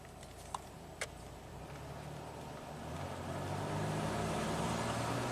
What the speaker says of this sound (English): I'm just gonna do steady throttle here, about half throttle, make sure we don't have any flat spots.